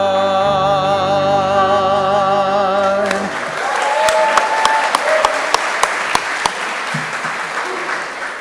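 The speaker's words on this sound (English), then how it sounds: "we are clapping in the light of God" A worship congregation claps along to a song, first under sustained singing and music, then as sharp, spaced handclaps ringing out over a dense, steady wash of applause.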